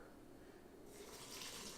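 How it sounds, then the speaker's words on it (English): Water poured into an Instant Pot for a butternut squash and quinoa chicken stew, starting quietly and swelling into a brighter hissing splash partway through, faint and close with no talking. "I'm going to add 4 cups of water"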